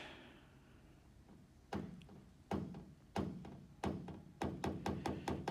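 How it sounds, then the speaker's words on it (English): Someone hammers out an aluminum hail dent on a fifth-wheel bedside with a cobalt hammer fitted with a hard plastic tip. Sharp, close taps start out spaced apart and then come faster and closer together. "hammering it out."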